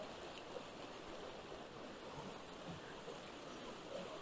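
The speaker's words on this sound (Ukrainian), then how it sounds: "Поруч течуть такі потічки. Це тає сніг у горах," Mountain streams fed by melting snow flow nearby on a trail up toward a highland lake, a steady close rushing and gurgling of water with no talk over it.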